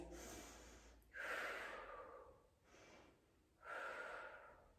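A person breathes deeply and steadily during a yoga twisting lunge, three slow, close, airy inhales and exhales with soft pauses between them, no talk.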